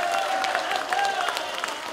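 An audience claps along at a live Korean pumba comedy-and-song stage show in a Seoul hall, steady clapping from a crowd under a performer's voice.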